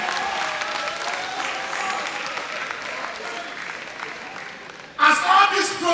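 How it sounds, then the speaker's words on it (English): At a comedy special, a large audience claps for fathers in a sustained, even burst of applause that runs until a voice cuts in loudly near the end. "Please clap for fathers."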